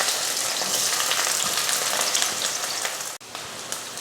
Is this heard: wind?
no